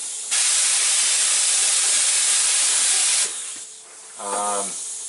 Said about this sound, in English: I want to know that I'm spraying a second layer over everything I need.